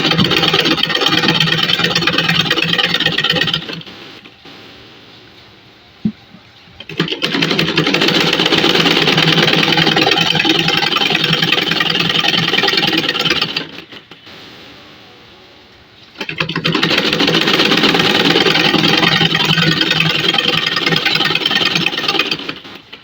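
A sewing machine double-stitches the gathered waist of a salwar, running loud and close in three long steady bursts with short quiet pauses between them.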